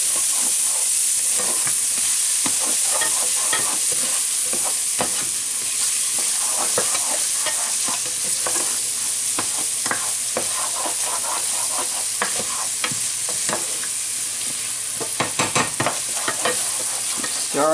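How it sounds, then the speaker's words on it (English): Finely chopped onion frying for beef stroganoff sizzles continuously as it is stirred in the pan, with scraping strokes throughout, close and fairly loud, with no talk. "Stirring it."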